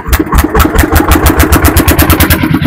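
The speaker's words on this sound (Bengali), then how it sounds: "এই দেখুন নৌকো এখান থেকে স্টার্ট হচ্ছে।" A motor boat's engine starts at Koikhali on a Sundarbans river trip and settles into a loud, close, fast rhythmic chugging of evenly spaced pulses that continues throughout, with no talking.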